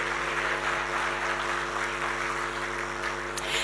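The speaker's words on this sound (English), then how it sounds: "Can we have another huge applause for Wally Mahana?" Gala dinner crowd applauding an award winner, a continuous, even patter of clapping filling the room at moderate loudness, with a steady low hum beneath.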